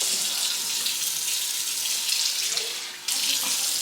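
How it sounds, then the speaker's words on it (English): Steady water runs from a kitchen tap into a pot of meat spaghetti sauce, a constant close splashing rush that lasts throughout with a brief dip near the end. "I'm gonna add like a little bit more water because I have like a lot of meat."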